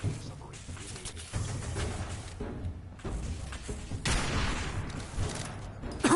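A .50 caliber sniper rifle firing in Fallout 4: several heavy booming shots at irregular intervals amid game noise, loud and close, with a voice talking at times.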